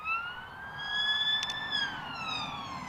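A police siren wails in a smooth rising and falling sweep, fairly close and steady, with faint traffic rumble underneath.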